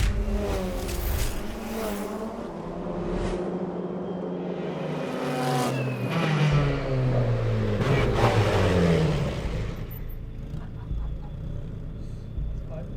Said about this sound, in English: when it goes past, the noise, the air pressure change, feel it right here